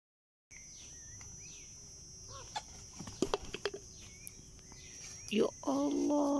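Chickens cluck and chatter close by in short bursts near a compost area, over a background of insect chirping and a steady high buzz.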